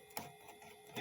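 A Music Man 65 112 guitar amplifier under repair sits idle with nothing plugged in, giving a faint, steady hum and hiss with soft, rhythmic pulsing noise bursts.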